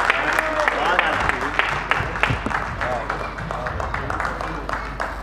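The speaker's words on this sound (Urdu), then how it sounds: "کامی بھائی کا شاندار ترنم اور شاندار غزل کے لیے ایک دفعہ پھر بھرپور تالیاں ہونی چاہیے" An audience at a mushaira applauds a ghazal, with dense clapping mixed with crowd murmur and a voice speaking over it throughout.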